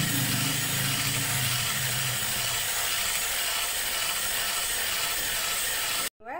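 Electric mixer beating eggless vanilla cupcake batter, a loud continuous whirring hum lasting several seconds before cutting off abruptly.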